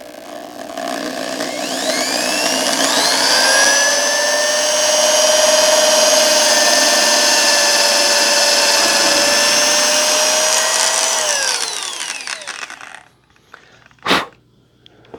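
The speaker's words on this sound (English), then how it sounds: "Hold the drill block and drill down." A power drill bores through a drill block into a DIY guitar body while mounting a hardtail bridge, a loud, steady whine that holds for about twelve seconds, then winds down, followed by a single knock.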